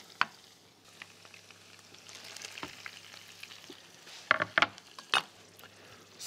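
Steady sizzling of tomato paste with sugar frying in a pan, with a few sharp scraping clicks from stirring near the end.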